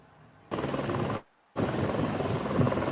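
National Guard helicopter flying over flood-ravaged Kerr County, Texas during a rescue, a dense steady rotor roar that cuts out briefly and then returns just as loud, with no voices.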